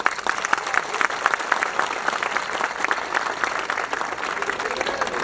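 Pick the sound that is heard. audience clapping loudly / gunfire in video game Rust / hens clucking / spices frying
audience clapping loudly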